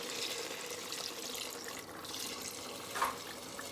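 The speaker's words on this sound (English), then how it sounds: "I have some water warming up on the stove behind me, and I'm gonna put that in here now" Warm water is poured into a pot of Guyanese duck curry, a steady, soft splashing pour that runs continuously for several seconds without talk.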